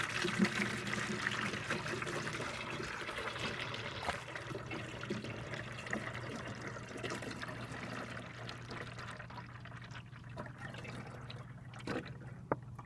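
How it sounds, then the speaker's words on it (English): Coolant antifreeze concentrate poured into a plastic mixing bottle gives a steady, soft liquid trickle and gurgle at close range that thins out and grows fainter toward the end. "let's pour our concentrate in it."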